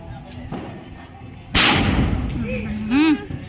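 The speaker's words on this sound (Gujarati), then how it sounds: "અહીંયા સુતરી બોમ્બ ફોડે છે છેલ્લો બોમ્બ છે" A single sutli bomb firecracker explodes outdoors at night during a festival. The blast is a sharp, loud crack that dies away into a rumbling tail. Whistling and excited voices follow it.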